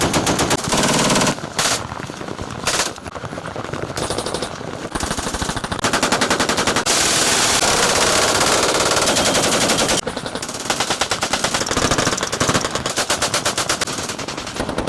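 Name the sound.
privately owned machine guns firing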